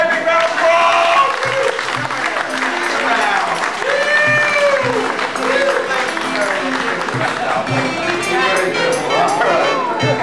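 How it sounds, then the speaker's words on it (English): Audience applause at an amusement park show in Kentucky, a sustained round of clapping from a crowd lasting the whole stretch, with a voice talking over it. "Folks, give her a quick big round of applause."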